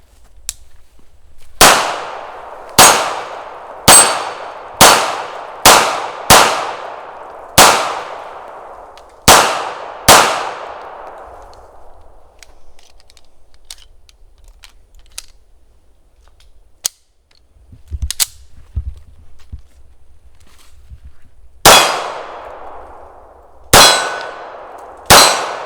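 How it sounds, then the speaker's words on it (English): A SIG P210 pistol fired strong-handed at steel targets: sharp, loud shots each followed by a ringing metallic clang, several in quick succession, a pause, then a final few more, with no talking. "let's do some strong hand shooting."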